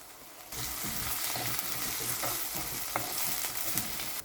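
Onions fry in oil with a pinch of salt for a crab masala curry, a bright steady sizzle starting abruptly and running on with repeated spatula scrapes and clicks against the pan.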